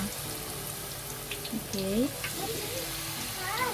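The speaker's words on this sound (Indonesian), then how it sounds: "ini kita perlahan aja kita masukkan rempeyeknya." Rempeyek batter sizzles in very hot oil over a high flame, a steady crackling fry with clinks and brief squeaks from handling, while someone speaks briefly.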